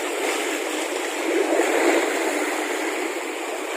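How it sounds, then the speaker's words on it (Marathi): Sea waves surge against the rocky shore at the Adgaon-Sarve fishing point, a steady broadband wash that swells briefly in the middle and holds fairly close and loud, with no talk. "आणि ह्या अशा लाटा उसळत आहेत बघा"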